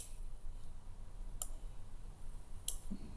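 Two sharp, faint clicks of a computer mouse come a little over a second apart in a quiet room, isolated with no talking.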